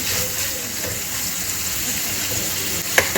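Potatoes sautéing in a pan, a continuous soft sizzle with a faint bubbling wash and a couple of brief utensil knocks near the end.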